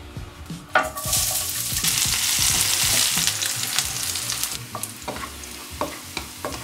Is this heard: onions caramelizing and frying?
yes